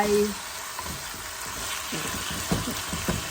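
Holy basil pork being stir-fried in a pan for rice with a fried egg: a steady hiss of sizzling oil with occasional scraping and stirring knocks, close and moderately loud.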